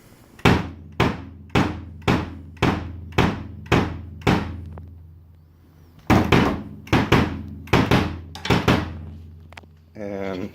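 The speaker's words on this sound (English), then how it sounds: "So yeah, let's just do a little sound test. Here's the bass drum." A restored 1965 Slingerland Sound King Duco 22-inch bass drum is struck with deep, booming thumps: a steady run of about seven hits, a pause, then a quicker cluster of about six, each ringing briefly, close and loud.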